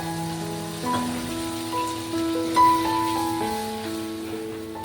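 Spices for a Bengali jackfruit (echor) curry hiss and sizzle steadily in a pan after a splash of water, the soft sizzle sitting under louder tonal background music.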